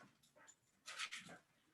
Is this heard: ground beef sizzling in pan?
no